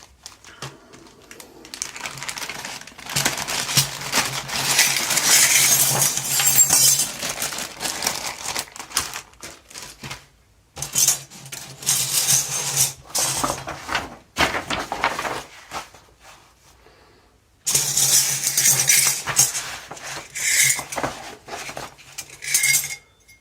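Metallic parts and plastic bags from a SunFounder PiDog robot kit box being unpacked, with bursts of clinking metal and crinkling rustle separated by short pauses, close and fairly loud.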